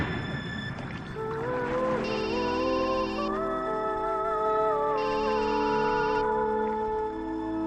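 A mobile phone rings for an incoming call, its electronic melody repeating steadily and clearly for several seconds with a brighter chiming layer entering twice, no voices over it.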